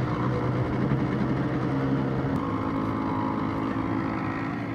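A steady motorcycle engine drone runs throughout at constant volume, with wind rushing over the microphone; no voices.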